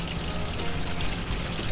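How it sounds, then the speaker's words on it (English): Aspirin mixture poured over filter paper during suction filtration in a chemistry lab, a steady broadband rush of liquid and vacuum hiss running continuously at close range with no talk. "then I'm going to pour it over top of the filter paper"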